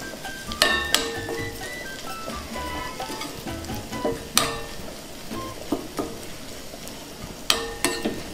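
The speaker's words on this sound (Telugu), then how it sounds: "ముందుగా తురుము పెట్టుకున్న కొబ్బరిని కూడా వేసి వేయించుకుందాం." Grated coconut frying in a pan for moong dal payasam, a steady close sizzle broken by sharp clinks and scrapes of a spoon stirring against the metal.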